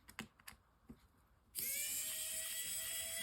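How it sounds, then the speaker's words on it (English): A power tool unscrewing screws from a Nintendo Switch during a fan replacement. A few light clicks from handling come first, then a loud, steady high-pitched motor whine starts up and runs continuously. "especially when you're using a power tool, you want to press firm"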